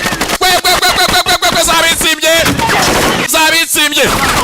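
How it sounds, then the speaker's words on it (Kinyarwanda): Gunfire from a war film, with rapid bursts of loud shots packed in close succession that break off briefly and then resume, mixed with music and dubbed voices talking over it. "Sikia bullet wewe, sikia bunduki"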